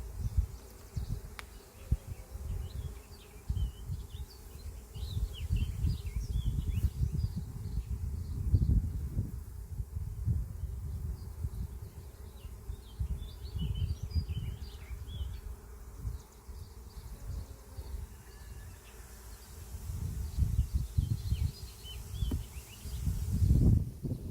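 Honey bees buzz around an open hive during a beekeeping inspection with a hive tool, a steady low drone that swells and fades with occasional louder close passes, continuous throughout and without talk.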